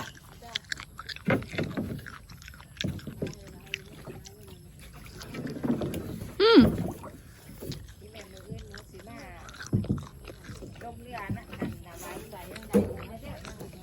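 A small rowboat carrying paying passengers on short rides moves across the water, with soft paddle splashes, wind buffeting the microphone, and people talking throughout.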